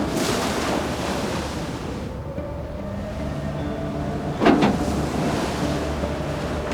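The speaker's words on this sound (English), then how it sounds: "we head out into the open water again and are greeted by a good swell" Ocean swell and steady wind at sea off Svalbard, heard aboard a sailing ship, as a broad continuous wash with a brief louder surge of water partway through.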